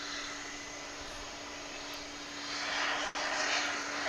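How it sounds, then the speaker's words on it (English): American Airlines Boeing 737-800 arriving from Albuquerque at Dallas Fort Worth, a steady jet roar with a sustained engine whine that swells slightly toward the end, no talking. "that was American Airlines flight 1421 coming in from Albuquerque, a 737-800"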